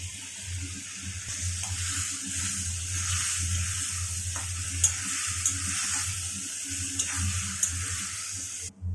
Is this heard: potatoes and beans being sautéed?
yes